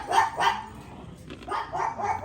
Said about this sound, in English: Don't mind the dog; she's having a meltdown.